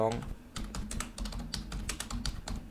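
Rapid keystrokes on a computer keyboard while code is typed, a steady run of close, crisp clicks with irregular rhythm; a voice murmurs faintly beneath.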